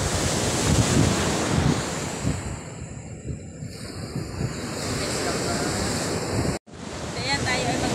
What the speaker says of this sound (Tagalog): sobrang laki ng alon